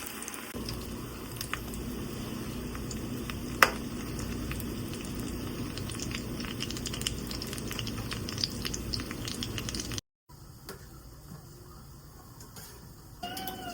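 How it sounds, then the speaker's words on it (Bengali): Potato chops frying in hot oil, a low continuous bubbling sizzle that stays fairly quiet, broken by a brief cut partway through. "এখন আমি একে একে সব আলুর চপগুলা দিয়ে দিব গরম গরম তেলে"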